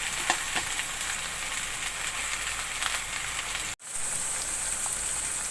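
Tomato and onion sabzi frying in a pan, a dense steady sizzle with soft stirring scrapes, briefly cut off for a moment before resuming just as loud.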